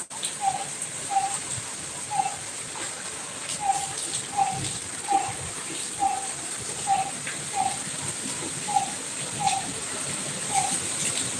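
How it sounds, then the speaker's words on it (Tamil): Heavy rain falls during Cyclone Fengal as a constant dense hiss, with a string of short, evenly spaced chirping notes repeating over it. "மழை பேஞ்சிட்டு இருக்குமா நல்ல மழை இங்கெல்லாம் இந்த பாருங்க எவ்வளோ தண்ணி பேஞ்சிக்கிட்டே தான் இருக்கு"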